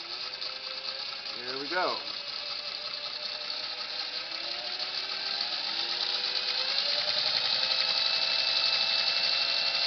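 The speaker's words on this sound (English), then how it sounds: "I'll just start sewing." A Singer Model 301A sewing machine stitches fabric with a steady, close, mechanical whirring hum that grows slightly stronger as it keeps running, with a brief spoken voice early on.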